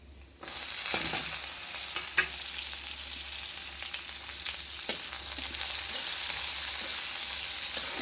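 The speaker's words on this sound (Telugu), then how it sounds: "ఉల్లిపాయ పచ్చిమిరపకాయ వేసుకున్నాం" Onion and green chili fry in hot oil for a gorichikkudu (cluster bean) curry, a steady close sizzle with occasional crackles and a stirring scrape, continuous throughout with no talk.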